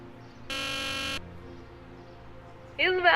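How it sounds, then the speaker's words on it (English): A gate buzzer in the Back to the Future video game sounds one flat, steady electronic buzz lasting under a second, followed by quiet and then the start of a voice. "buzzer."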